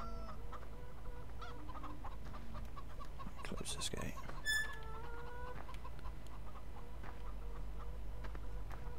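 Chickens cluck and squawk on a farm in a farming video game, in scattered, fairly faint calls over a low steady hum, with a brief clattering burst midway and someone speaking briefly.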